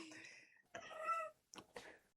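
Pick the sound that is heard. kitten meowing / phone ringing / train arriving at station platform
kitten meowing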